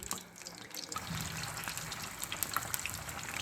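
Potato balls (aloo pakoray) frying in hot oil, a steady bubbling sizzle with crackly hiss, moderately loud and continuous with no talk.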